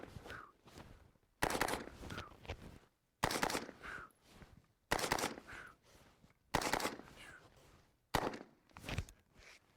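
An AR-15 rifle fired in close-quarters combat practice, emptying a 30-round magazine as six separate bursts of rapid shots with short pauses between them, heard from a distance and fairly faint.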